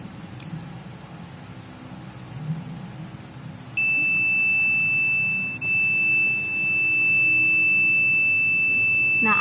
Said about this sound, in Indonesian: Buzzernya telah bunyi dan LED-nya menyala.